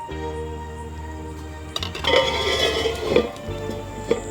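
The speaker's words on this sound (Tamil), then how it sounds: "இப்போ நம்ம மூடி போட்டு வச்சுக்கலாங்க" A metal lid goes onto a pot of sambar cooking over a wood-fired stove, with a few clinks and a scrape of metal in the middle over a steady low hum of the fire.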